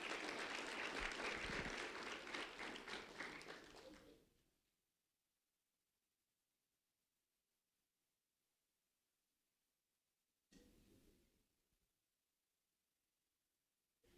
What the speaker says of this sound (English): a round of applause for Reese Martinez